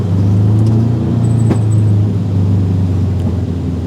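A Subaru STI drag car engine gives a deep, loud, steady rumble from close by on the road, with a slight swell in pitch as it pulls and a faint high whine above.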